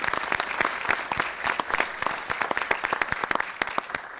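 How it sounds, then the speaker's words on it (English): Applause from the audience at a county government budget address, a loud field of sharp individual claps in quick uneven succession, sustained for the whole stretch with no talking. "give them a round of applause"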